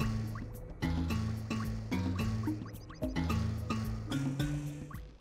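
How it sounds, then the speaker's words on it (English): Glowing green eco drips from pipes beside plants at Samos' hut in Jak and Daxter, a steady rhythmic run of wet plops and drips layered over a low looping musical bed. "You can see it glowing in the rings around the plants and dripping from the pipes."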